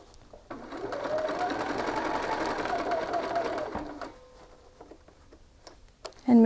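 A sewing machine stitches a shirt collar in one steady, close run of about three and a half seconds, then stops, leaving a quiet room with a few soft handling clicks.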